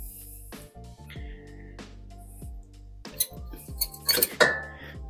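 Metal brake pad pulled from the lifted brake caliper of a Mitsubishi Pajero, giving a run of close, sharp metallic clinks and scrapes that grow louder and busier toward the end, with no talking.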